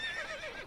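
A horse whinnies in The Bard's Tale video game, one brief wavering neigh, close and clear with no talk over it.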